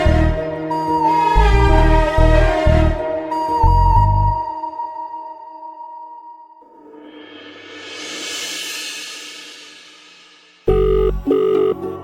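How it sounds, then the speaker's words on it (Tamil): A telephone in a Tamil TV serial scene rings with a melodic electronic ringtone, loud and close, its tonal phrases repeating in bursts with a swelling wash of music between them. "இவங்க எதுக்கு ஃபோன் பண்றாங்க?"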